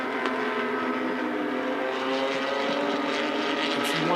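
Porsche race car engines warm up around the Sepang circuit during a Porsche Sprint Challenge race, a steady dense roar of several engines with layered droning tones held at constant loudness throughout.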